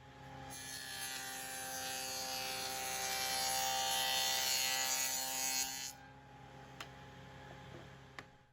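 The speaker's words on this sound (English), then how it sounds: "I've set up a dado blade and a sacrificial fence to do that here at the table saw." A table saw with a dado blade cuts rabbets along the edges of wooden side panels for a swarm trap, a loud, steady whining grind of about five seconds that winds down, then a couple of light knocks.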